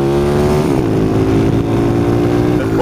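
Close and loud, a Honda CT70 minibike's small single-cylinder engine drones steadily, its pitch dipping and settling as the throttle eases, then starting to rise again at the end.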